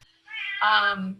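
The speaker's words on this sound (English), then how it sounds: "Please excuse my cat in the background." A house cat in a home office lets out a single drawn-out meow, rising then falling, clear and close in a quiet room.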